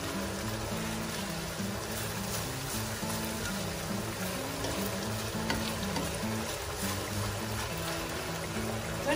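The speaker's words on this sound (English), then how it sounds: "Then allow these to simmer." Spicy Chinese-Korean mapo tofu simmers in a pan over a medium-low flame, giving a steady, continuous sizzle and bubbling hiss at close range, even and unbroken throughout, with faint background music underneath.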